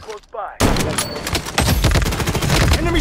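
Sniper rifle fire in the mobile shooter Blood Strike: a loud crack, then a dense burst of rapid shots ringing on, with a player talking over the action.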